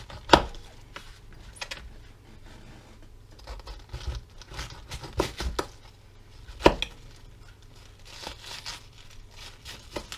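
A knife chops through a head of cabbage, slicing thin wedges for a corned beef brisket, with a string of sharp, irregular cutting knocks close by and some faint rustling between strokes.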